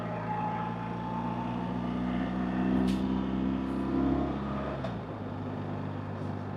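A 2025 BMW R1300RT motorcycle downshifts with its quickshifter blipper, dropping from third to second. The engine hum holds steady, then the pitch shifts with quick blips and a drop near the end, heard fairly quietly from the rider's position.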